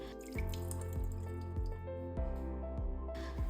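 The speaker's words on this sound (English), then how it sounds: "Wash the vegetables under running water and strain the salt away." Cucumbers and carrots rinsed under running tap water in a kitchen, a close steady stream with repeated dripping and splashing pulses as the vegetables are handled.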